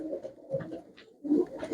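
A pigeon cooing close by, low throaty coos in two bursts with a short pause between, no talk.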